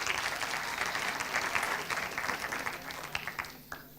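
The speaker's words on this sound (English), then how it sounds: "A round of applause for her." Audience applause at a university intellectual property day celebration, steady and fairly loud throughout, thinning slightly toward the end, with no talk over it.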